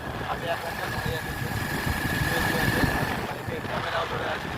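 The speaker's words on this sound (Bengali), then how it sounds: "বাইক চালাচ্ছি দেখো" A motorbike carrying two riders on the road home, its engine humming steadily with broad wind rush throughout, no voices standing out over the continuous drone.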